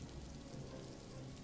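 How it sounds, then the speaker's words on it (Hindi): Rain falls in a soft, even hiss that runs steadily without breaks, faint and alone with no voices or other sounds. "कुछ पल के लिए सिर्फ बारिश की आवाज सुनाई दे"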